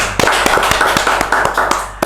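A small audience applauds a guest with loud, close, rapid clapping, sharp hand strikes repeating in an irregular but steady rhythm throughout.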